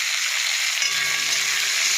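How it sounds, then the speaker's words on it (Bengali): Bitter gourd pieces dropped into a hot pan of lightly fried onion sizzle loudly and steadily, with a bit of stirring clatter in the last second, up close and without voices. "এবার আমি উচ্ছেগুলো দিয়ে দেবো।"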